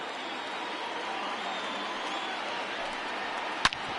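A crowd of over 39,000 fills the stadium of a PS4 baseball video game with a steady, faint roar, broken by a brief sharp click near the end.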